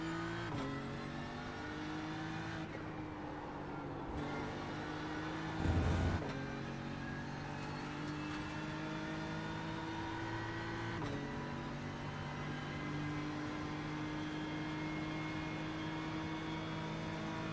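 Race car engine in the iRacing sim, a GT3 car on new tyres, droning steadily and near throughout with pitch shifting as the revs rise and fall, plus a brief louder burst partway through.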